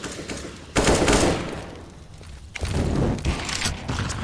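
Rifle fire in a Counter-Strike match: two loud bursts of rapid shots, the first near the start and a longer volley later, with quieter footsteps and shuffling between them.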